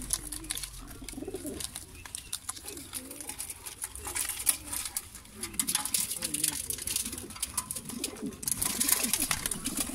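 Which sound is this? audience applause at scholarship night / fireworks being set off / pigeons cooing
pigeons cooing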